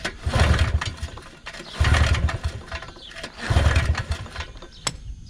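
A Polaris 2-stroke ATV engine is pull-started with the key off, throttle wide open and a compression tester attached, giving three rhythmic chugging bursts of cranking, each a rough, close mechanical churn rising and falling.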